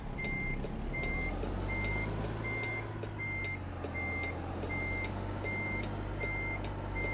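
A truck's reversing beeper in American Truck Simulator sounds a steady string of evenly spaced, sharp electronic beeps over a constant low diesel engine rumble, with no one talking.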